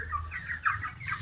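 Poultry farm shed crowded with chickens, faint clucking and gobble-like calls repeating in a low, continuous chorus, with no talking.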